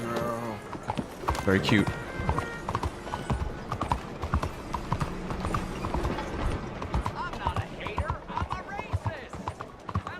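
Horse hooves clip-clop in a steady, close rhythm in the video game Red Dead Redemption 2, with carriage and harness sounds mixed in and someone talking over them.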